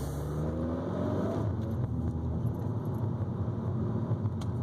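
A Volkswagen MK6 car accelerates from low speed, its engine rumbling steadily and rising in pitch as it pulls, heard from inside the cabin at close range with no talk.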